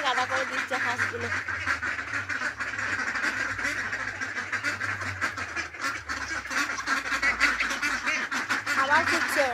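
A flock of farmyard ducks quacks continuously, close by, many calls overlapping into a busy, unbroken chorus.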